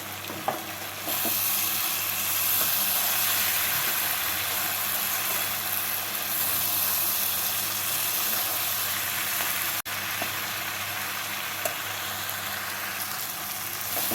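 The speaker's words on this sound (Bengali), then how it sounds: "অল্প ভাজা ভাজা করে নেব" Potatoes and spring onion stalks fry in a pan with a steady, close sizzle and occasional stirring. A brief click comes near the end, and no one speaks.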